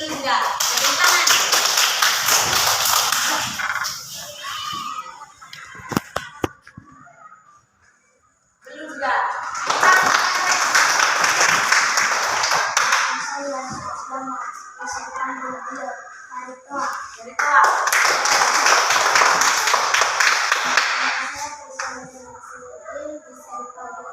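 Elementary schoolchildren in a classroom break into three separate rounds of vigorous hand clapping, each lasting several seconds, with a teacher's voice speaking in the pauses between rounds.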